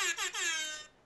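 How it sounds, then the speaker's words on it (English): An air horn sound effect played from a phone app gives a loud, brassy, wavering blast of about a second, stuttering twice early on before cutting off cleanly. "I don't think we're going to do morning radio air horn bits"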